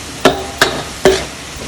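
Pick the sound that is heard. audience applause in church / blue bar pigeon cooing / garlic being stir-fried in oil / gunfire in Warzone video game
garlic being stir-fried in oil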